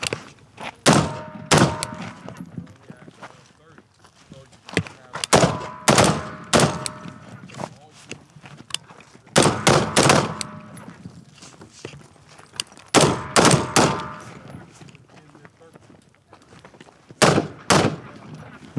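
Live gunfire during a tactical shoot-and-move drill at an outdoor range with barrels set up as obstacles: loud, sharp shots fired in quick clusters of two to four, separated by pauses of a few seconds.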